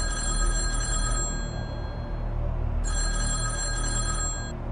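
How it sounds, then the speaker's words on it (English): A red telephone ringing in the Kremlin, an old-style bell ring in two long bursts separated by a pause, loud and clear over a low rumbling background. "In the Kremlin, a red phone rings."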